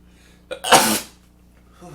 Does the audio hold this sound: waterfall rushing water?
no